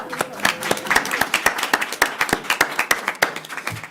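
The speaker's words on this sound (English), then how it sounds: "I would like to give a second round of applause for Miss Paris over here" A small audience at a public school board meeting claps for a few seconds, steady scattered hand claps of moderate loudness.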